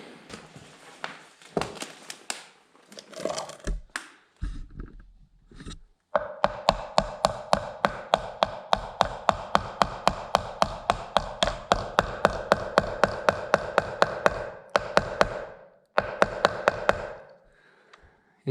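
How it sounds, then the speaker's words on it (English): A hammer taps a wheel bearing into a lawn mower wheel, starting with scattered light knocks and then settling into a long, steady run of sharp, evenly spaced metallic blows, close and alone, with a few brief pauses. "So I need a hammer, and we're gonna tap the bearing in."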